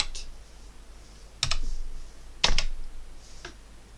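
A few separate keystrokes clack on a BBC Micro Model B keyboard, sparse and close, with pauses between presses in a quiet room.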